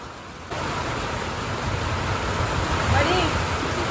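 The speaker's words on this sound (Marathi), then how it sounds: "बघा मित्रांनो गारा पडते ते." Hail pelts down during a sudden storm in rural Maharashtra, a dense, steady roar of pellets striking the ground and surfaces that swells slightly toward the end, with no voices.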